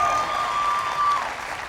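Spectators at a compound men's archery quarterfinal in Odense break into sustained applause for archer Damsbo's shot, a broad crowd clap that swells then slowly eases, with a faint steady tone running underneath.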